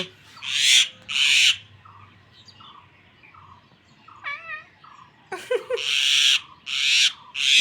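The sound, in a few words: mynah bird calling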